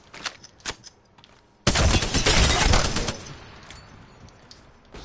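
Alternator submachine gun in Apex Legends fires disruptor rounds: a few scattered single shots, then a dense, loud burst of rapid automatic fire lasting over a second before trailing off.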